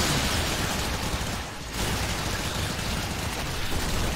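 Dense, continuous explosions and gunfire fill a chaotic battle in the video game Warframe, loud and sustained with a brief dip before resuming.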